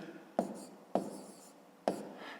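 A pen writing out a fifth-grade math solution by hand, three quick scratchy strokes a little under a second apart, each followed by a softer trailing rub.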